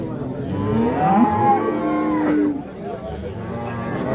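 A cow moos loudly and close by at a livestock market, a long drawn-out low call lasting a couple of seconds, with faint crowd murmur behind.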